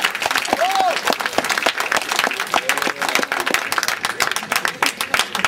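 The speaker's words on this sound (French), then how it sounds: "on peut quand même applaudir." An audience claps and applauds at a 2013 inter-school debate match between Dauphine and ESSEC, dense steady clapping throughout, with a brief whistle near the start and some crowd noise.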